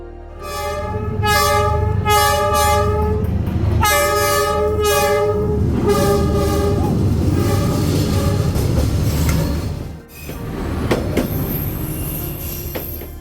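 A train rolls slowly past along Train Street in Hanoi, its horn blaring in repeated long blasts over the heavy rumble and screech of wheels on rails, loud and close, then a brief lull before the clatter continues.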